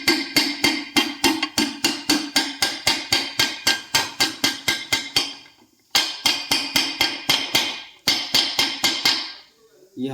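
A bearing is hammered into a gearbox for a TVS RTR 200 with a pin, making rapid, evenly spaced sharp metallic hammer strikes in three fast bursts separated by short pauses.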